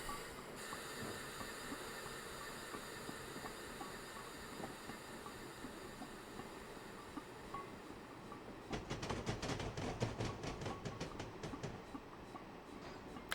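A train braking in the Train Simulator video game, going from Exeter to Plymouth: a steady rolling rumble with a loud burst of brake hiss and clatter near the end.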